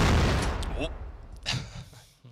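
A grenade blast in Counter-Strike opens with a loud, dense roar that slowly fades, followed by a sharp burst of gunfire. A commentator talks over the action.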